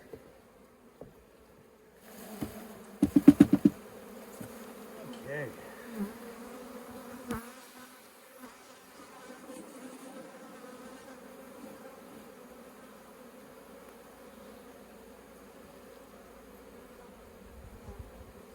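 Quiet, low honeybee buzzing hums in the background as bees are cleared from a hive frame, with a brief burst of scraping clicks early on and occasional soft knocks.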